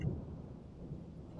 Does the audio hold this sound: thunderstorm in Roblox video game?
yes